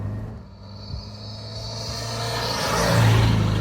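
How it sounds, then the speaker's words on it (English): A Porsche fitted with a Rotax engine blips its revs for a rev-matched downshift in traffic, the engine note swelling from a low hum to a louder rising rev near the end. "do a little rev match downshift in front of this huge line of traffic"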